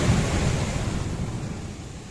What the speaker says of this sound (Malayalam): കടലടിച്ച് പൊളിക്കണ്. ഗംഭീര തിരമാലകളാണ്.